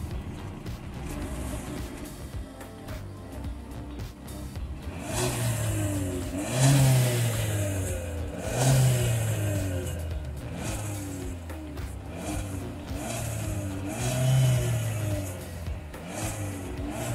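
A car engine with its muffler fitted revs repeatedly, rising in waves of throttle over a steady idle rumble, close and loud, with no talking.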